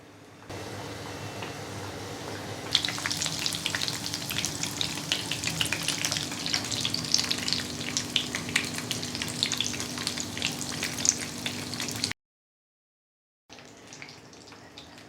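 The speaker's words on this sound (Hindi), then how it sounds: "तेल को बहुत ज़्यादा गरम ना कर दें, मीडियम करें और फिर फ्लेम को भी मीडियम रखें और इन्हें डालें ध्यान से।" Biscuit kababs hit medium-hot oil in a pan and sizzle loudly and continuously, a dense crackling fry that swells after being added, then cuts out before quieter frying returns.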